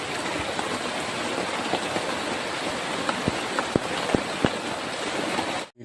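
Steady rain pours outdoors in a broad, even hiss, with a few sharp drip or tap hits standing out near the end.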